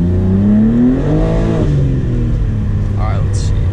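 A BMW G80 M3 with an MHD Stage 1 tune revs hard while warming its tires, the engine note climbing steadily for about a second and a half before easing into a lower, steady drone.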